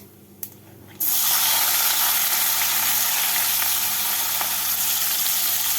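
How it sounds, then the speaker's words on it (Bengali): Quiet room tone breaks into a sudden loud sizzle as chopped onions hit hot oil with cumin seeds for a catfish curry, then a steady close frying hiss continues to the end. "পেঁয়াজগুলোকে লাল করে ভেজে নেব"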